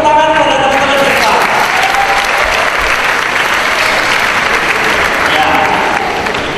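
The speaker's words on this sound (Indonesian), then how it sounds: "Oke, kita tepuk tangan pada teman-teman siswa." Loud, dense audience applause for students at a Christmas gathering, a sustained roar of many hands clapping together that stays strong throughout and eases off only slightly near the end.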